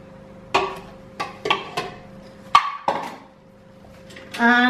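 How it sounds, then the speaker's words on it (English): A single egg cracks into a bowl while baking, heard as a series of sharp, close taps and knocks against the bowl, ending with a brief ringing clatter. "And then crack in the single egg."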